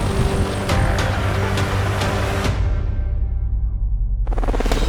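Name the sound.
helicopter landing near the marshaller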